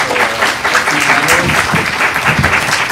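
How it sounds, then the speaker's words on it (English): A panel discussion audience breaks into loud, dense applause, a steady wash of many hands clapping close by for a few seconds. "So if I can get a big, big hand of applause for"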